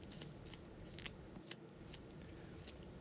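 Carving knife making pivot cuts in wood while shaping a small pickle ornament, heard as a handful of sharp, faint slicing clicks spaced irregularly over a quiet room.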